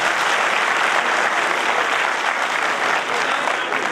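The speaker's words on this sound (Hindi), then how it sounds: "एक बार उनका ताली बजा करके स्वागत करूंगा" An audience at a national kavi sammelan poetry gathering in Agra claps loudly and steadily, a dense, continuous wash of applause that welcomes the chair of the event, with no voices breaking through.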